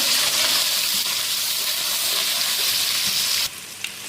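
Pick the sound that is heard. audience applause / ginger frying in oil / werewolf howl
ginger frying in oil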